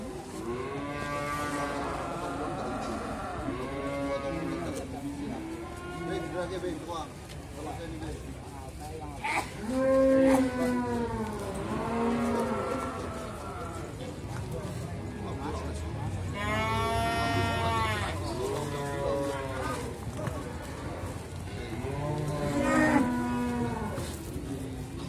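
Simmental and Limousin cattle at a livestock market in Grabag, Magelang, mooing repeatedly: several long, drawn-out lows from different animals, some near and loud, others farther off, amid background crowd murmur.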